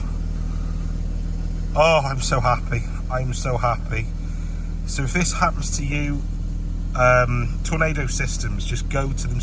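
A 1995 Jaguar XJR X306 engine runs steadily at idle after repair of an immobiliser no-start fault, a constant low hum throughout with a person talking excitedly over it.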